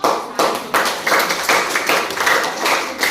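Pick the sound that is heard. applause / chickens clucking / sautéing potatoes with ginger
applause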